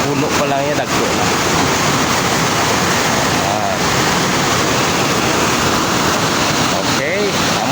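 Huyop-Huyop Falls at Sitio Omas, Barangay Camindangan, rushes in a steady, loud, unbroken roar of falling water nearby, with occasional voices over it.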